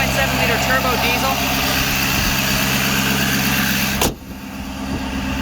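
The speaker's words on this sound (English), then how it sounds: "It's a very loud engine. You can really hear that induction coming through here." Loud running of a 2020 Ford Super Duty Lariat's 6.7 liter turbo diesel, a steady close-up rumble with induction noise that drops off abruptly near the end, with someone talking over it.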